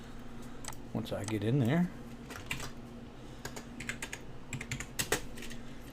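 Light, irregular clicks of a computer keyboard as a job folder name is typed, quiet and close, with someone speaking briefly over the keystrokes.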